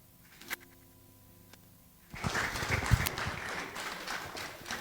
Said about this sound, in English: You have to clap for Ghana.